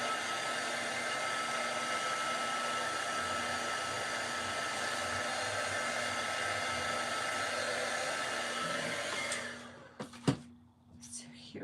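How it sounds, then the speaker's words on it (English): Heat tool blowing hot air to dry craft material, a steady close whooshing hum that runs continuously, then cuts out near the end, leaving brief handling knocks. "And it dries really quickly. With the heat tool."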